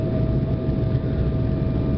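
Embraer 190 jet landing at Aracaju airport, heard as a steady, loud cabin-side engine roar with a constant hum and no other sounds over the short stretch.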